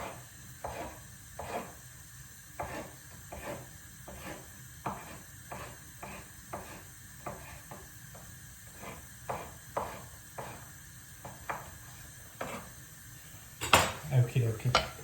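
Knife slicing courgette thinly on a chopping board, a long run of steady, evenly spaced sharp taps at close range, with faint background noise throughout and a louder clatter near the end.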